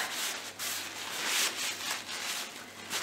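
A cloth rubs back and forth over a wooden talking stick, wiping off excess shoe polish in soft, close, continuous swishes with no voices.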